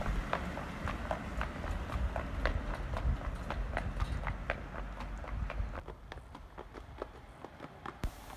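A young horse's hooves clip-clop on a road in a steady walking rhythm of distinct, close hoof strikes, with the background growing quieter toward the end.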